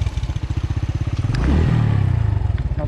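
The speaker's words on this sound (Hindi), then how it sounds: "अब आगे नहीं जा रही बाइक।" A motorcycle straining up a rough, slippery footpath trail on the way to Rakaposhi Base Camp, its engine thumping rapidly before revving hard with clatter and scraping, loud and close.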